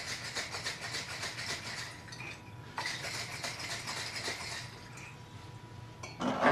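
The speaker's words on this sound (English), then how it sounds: "Shake it. Get that cleaning solution all over the inside of the bottle." Cleaning solution being shaken inside a glass bottle sealed with a finger, giving a steady close sloshing rattle with glassy clinks that pauses briefly twice before a louder burst at the end.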